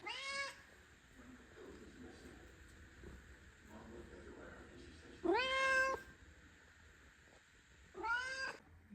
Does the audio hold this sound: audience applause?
no